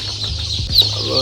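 Chickens on a small farm cluck in a short, close burst of soft throaty calls over a steady low hum, with no talking.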